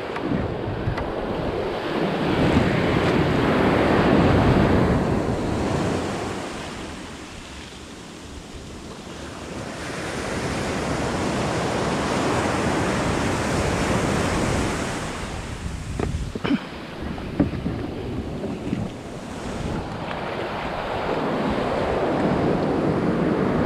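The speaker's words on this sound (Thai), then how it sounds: "คลื่นชายหาดจะยกตัวสูง" Ocean waves rolling in and breaking on a shallow beach on the Gulf of Thailand coast, a broad rushing surge that swells, fades and returns, with gusty wind buffeting the microphone and no voices.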